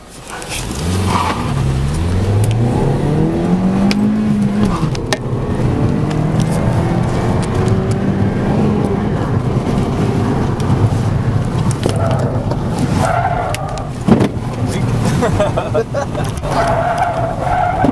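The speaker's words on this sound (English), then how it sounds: "Now we're gonna see how well the USA one can handle the crazy curves." 2011 Ford Fiesta (US version) driven hard through tight curves at a San Francisco media event, engine revving and tires squealing and skidding continuously, loud and close, with people talking over it.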